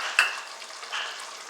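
Fried onion is stirred into a boiling pot of Hyderabadi chicken dum biryani. A sharp spoon scrape comes first, then a soft sizzle and bubbling continue, up close and without voices.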